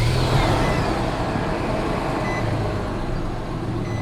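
Car engine with a newly fitted Continental serpentine belt, checked for a suspected idler or tensioner pulley noise, starts and runs at a steady, loud idle with a broadband hum throughout and no speech.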